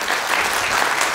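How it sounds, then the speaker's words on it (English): A church congregation claps their hands during a Sunday morning service, a dense, steady burst of applause filling the room. "If you love Jesus, give him a hand clap right now."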